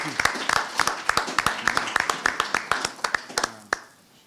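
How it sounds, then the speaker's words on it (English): Scattered, uneven hand claps from a small audience at a community conversation on drug use, applauding a state representative, with sharp individual claps rather than a dense roar, fading out near the end. "Let's give Representative Joe Dela Cruz another round of applause."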